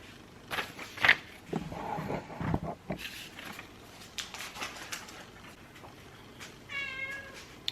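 An indoor cat meows several times, close and moderately loud, with a higher drawn-out meow near the end and scattered household noises between calls.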